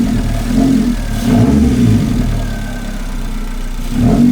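Chevrolet Spark engine fitted with an electronic throttle body idles, then is given light throttle in a couple of short revs that swell and fall back, close and fairly loud, no talking.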